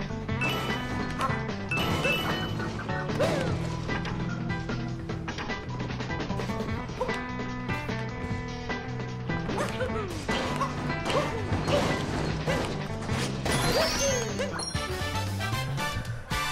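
A tower in Super Mario Odyssey breaks apart with repeated crashes and crumbling impacts over busy game music and effects, sustained and loud throughout.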